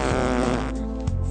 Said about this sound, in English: Oh, he farted! Did you hear that?